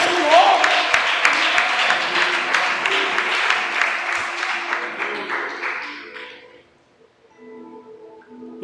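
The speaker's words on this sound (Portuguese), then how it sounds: "Palmas alta" A church congregation at a Portuguese-language communion service claps loudly and steadily for several seconds, then the clapping fades out, leaving soft sustained tones like a keyboard.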